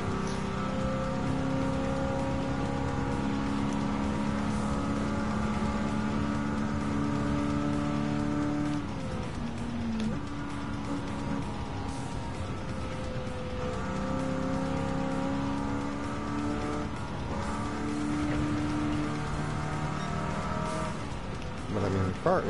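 A muscle car with a big engine racing around the Le Mans circuit in a driving video game, its loud steady engine note droning continuously with harmonic pitch shifts as it revs, brakes and accelerates again, with tire squeal at times.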